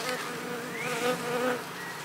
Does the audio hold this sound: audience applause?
no